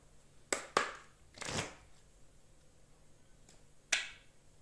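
Fairy oracle cards are shuffled in a few sharp, quick riffles and snaps, separated by short pauses in an otherwise quiet room.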